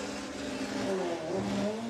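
Drag race cars, a four-wheel-drive VW Lupo against a VW Beetle at Santa Pod Raceway, accelerate from a distance, their engine notes climbing in rising tones that stack and overlap across two seconds, moderately loud.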